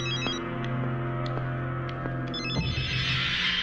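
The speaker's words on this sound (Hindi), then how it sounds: "रिंग बजी तो थी।" An indoor telephone rings in repeated electronic trills, loud and close with no voices, then a brighter hiss or tone swells in near the end.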